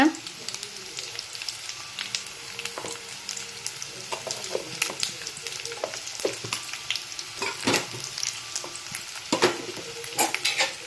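Cut taro root frying in a pan with mustard seeds, salt and turmeric, a steady close sizzle broken by repeated scraping and clinking of a stirring utensil, with occasional talk.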